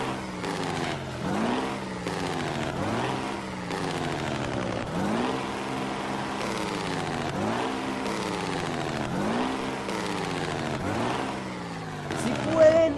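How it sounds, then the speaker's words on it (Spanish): Peterbilt 351 truck engine in Euro Truck Simulator 2 starting up and running, a loud steady diesel drone with repeated rising revs and gear-like pitch sweeps, continuous throughout with a brief louder burst near the end. "Vamos a encender el motor, vamos a calentar el motor."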